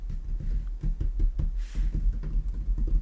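Knuckles knocking on a desk, picked up by an NZXT Capsule USB microphone: a steady series of dull, low thuds, roughly three per second, close and fairly soft, with no talking.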